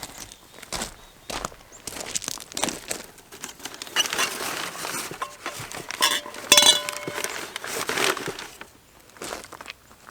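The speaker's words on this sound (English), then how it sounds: "So I think I'm going to put the cloche right here behind it." A glass cloche being set down in a garden bed, giving scattered light clinks and taps of glass with soft rustling and handling noises in between.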